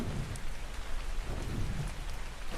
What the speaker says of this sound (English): Okay, it's raining at least.